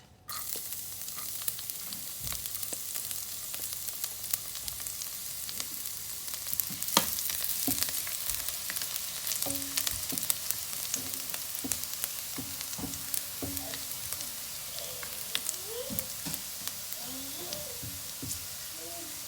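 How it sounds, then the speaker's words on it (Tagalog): Garlic sautés in hot oil in a pot with a steady, close sizzle, broken by occasional scraping stirs, while a voice speaks quietly at times. "Ngayon po, simulan natin igisa ang bawang. Mainit na po itong mantika."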